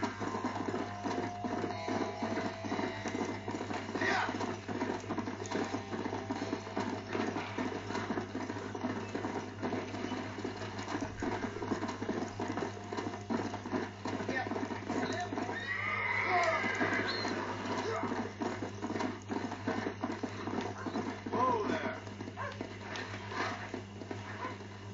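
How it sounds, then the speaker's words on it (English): Horse neighs and hoofbeats from a Wild West video game sound over a steady synthetic background hum that continues for the whole stretch, with no talk. "This steed looks right tetchy."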